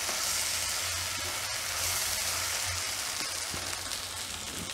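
Green beans sizzle steadily in a hot pan while cooking for a Gujarati fansi shaak, a loud, continuous hiss with faint stirring scrapes and no talk.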